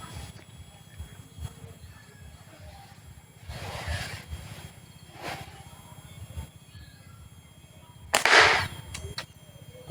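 Slingshot shots fired during target practice give a few sharp, snappy cracks spaced seconds apart, the last one loudest, over a quiet low hum.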